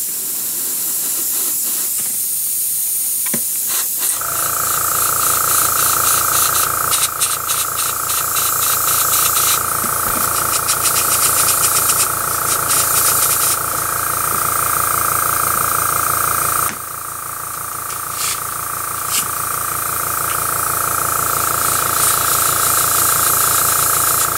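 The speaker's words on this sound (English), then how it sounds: "and spray the gold on." A loud, steady airbrush hiss sprays gold metallic paint continuously, with a sustained whine that drops out briefly and returns, close and unbroken throughout.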